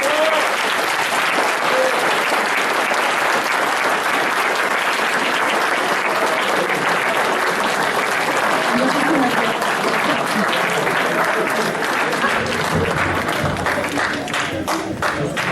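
An audience at an event honouring Professor Carlos Gutiérrez Aranzeta breaks into loud, dense applause that continues steadily for the whole stretch, close and enveloping, thinning slightly near the end.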